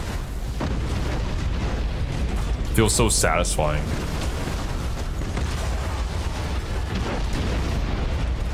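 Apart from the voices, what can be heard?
artillery explosions from video game Battlefleet Gothic: Armada 2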